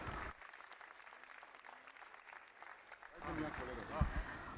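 An audience at the Aalami Urdu Conference applauds an award sculptor with a burst of clapping that fades after about three seconds, when a voice begins talking over faint crowd noise.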